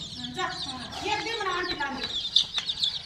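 A hen and her month-old chicks cluck and peep close by, with soft repeated calls over faint background voices.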